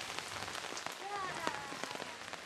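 Heavy rain pours on surfaces in Cimahi, a dense steady hiss with scattered drip taps, fairly faint and continuous, while a few faint tonal sounds drift over it.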